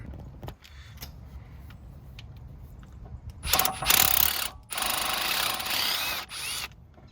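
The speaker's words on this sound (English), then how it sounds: "We're going to take this motor off now with the T30 Torx" Mechanical ratcheting and clicking from a long, narrow T30 Torx tool loosening the electric parking-brake motor on the rear brake caliper of a Mercedes GLA 250, with bursts of louder clatter mid-clip and no talking.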